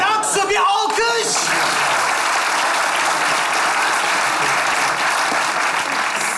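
Loud, sustained studio audience applause from a comedy show crowd, a dense wash of clapping that runs steadily after a brief spoken line.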